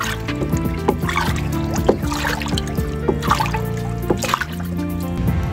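A liquid fertilizer mix of rice water, jakaba and molasses is stirred by hand, producing close, continuous sloshing and trickling water with repeated splashy swirls and drips.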